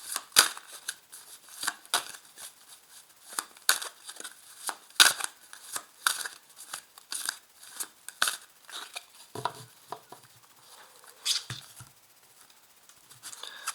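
Cards of a tarot deck are cut and shuffled, giving a run of crisp papery flicks, snaps and slides, close and fairly loud, with irregular bursts and no talking.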